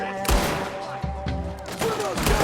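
Gunfire in a Red Dead Redemption 2 shootout: several loud, close shots in quick bursts, echoing over low rumble, with no voices between the shots.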